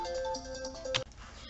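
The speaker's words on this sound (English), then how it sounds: "Don't you just love it when your phone rings and it's nobody?" A phone rings with a short melodic tone sequence, close and clear, then cuts off abruptly partway through.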